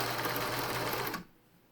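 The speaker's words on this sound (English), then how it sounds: "with a straight stitch, you just stitch that seam all the way down" A sewing machine runs a continuous straight stitch down a face mask seam, a steady close whir that stops abruptly near the end, leaving quiet room tone.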